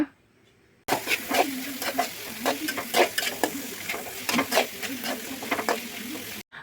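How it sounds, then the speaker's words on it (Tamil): Cabbage sizzles and crackles in a hot frying pan while a utensil stirs and scrapes it in repeated bursts, loud and close, after a brief quiet start. "கோஸை நல்லா தாளித்து விட்டுக்குங்க"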